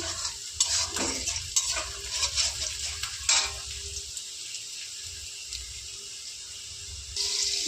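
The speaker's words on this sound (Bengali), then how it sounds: "কড়াইতে সর্ষের তেল গরম হয়ে গেছে, এবার আমি বেরেস্তা করে নেব।" Sliced onions sizzle and crackle in hot mustard oil in a kadai, with occasional stirring scrapes and clinks against the pan, no talking.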